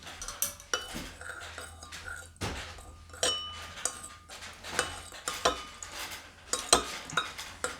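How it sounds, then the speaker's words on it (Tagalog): A spoon stirs herbal tea with hot water in a cup, clinking and tapping against the sides in quick, irregular strikes with soft swirling between, close up and without speech. "I'm gonna add a little bit of hot water again, and then stir it."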